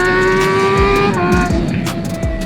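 A high-pitched motorcycle engine screams up through the revs, loud and close, with a few quick gear shifts and brief dips between pulls.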